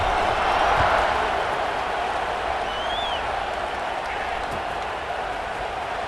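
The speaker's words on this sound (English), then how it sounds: "this crowd is buzzing after that last score" Stadium crowd at a college football game, Vanderbilt at Iowa, buzzing after a score: a steady, dense roar of many voices that stays fairly even throughout, swelling slightly near the start.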